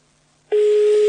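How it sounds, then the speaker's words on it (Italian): A telephone on an outgoing call gives a single loud steady tone that starts abruptly after a brief silence and holds to the end. "Ora lascia squillare."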